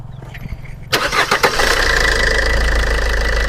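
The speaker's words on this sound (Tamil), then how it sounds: "பாருங்கள் பலினோவோட இன்ஜின் சவுண்டு" Maruti Suzuki Baleno car engine starting, cranking briefly with a few sharp bursts before settling into a loud, steady close-up idle hum, no talking.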